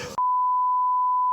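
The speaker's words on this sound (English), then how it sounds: "All the swears are gonna go beep" A single steady censor bleep over a swear word, a pure continuous tone lasting a little over a second, loud and clean, cutting in right after a brief burst of speech.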